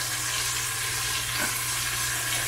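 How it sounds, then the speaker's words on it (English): Onions sautéing in an Instant Pot while the pan is scraped, a steady close sizzle with a constant hum underneath and a brief scraping scuff in the middle. "we're going to scrape this pan down really good and just kind of let these onions saute up real nicely"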